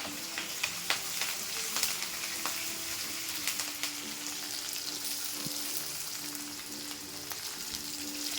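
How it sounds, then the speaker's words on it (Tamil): Curry leaves frying in a pan for a broad bean poriyal, a quiet continuous crackling sizzle with scattered sharp pops and a few light stirs, heard alone without speech. "இப்போ இதை நல்லா வறுத்து எடுப்போம்."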